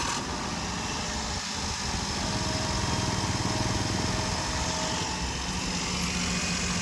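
A 2011 Maruti Suzuki car's engine idles steadily close by, a continuous low mechanical hum with a brief dip before it settles again.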